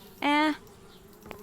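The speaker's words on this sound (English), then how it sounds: "Darn bee." A single short buzzing tone from a bee in the point-and-click adventure game Anna's Quest, lasting about a third of a second, clear and fairly loud against a quiet background.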